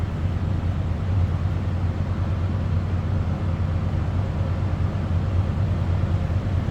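A 1966 Lincoln Continental engine idles steadily, heard from behind the car as a low, even rumble that holds constant throughout with no voices.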